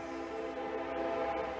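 A train rolling past outdoors in a yard, a steady rumbling wash with tonal horn-like bands, moderately loud and unbroken over the short span.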